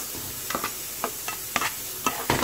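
A cup of sugar is stirred continuously in a hot pan, a spoon scraping in irregular strokes over a constant sizzling hiss, close and unaccompanied.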